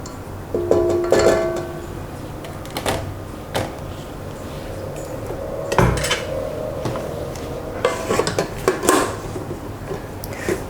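A spoon or beater knocks and scrapes against a bowl while banana walnut cake batter is beaten, giving scattered clinks and taps at irregular intervals close by, with quieter stirring between them.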